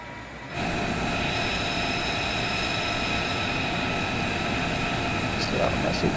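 A pair of F-35 jet fighters flying in formation near an aircraft carrier, heard as a loud, steady roaring drone with sustained tones, beginning abruptly and holding unbroken, with a few faint voice sounds near the end.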